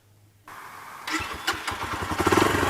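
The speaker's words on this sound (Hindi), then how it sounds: "ये बाइक अभी स्टार्ट हो चुका है" A Yamaha YB125Z motorcycle engine cranks and catches after a quiet start, firing up around the one-second mark and settling into a steady, close, loud running rhythm with no talk.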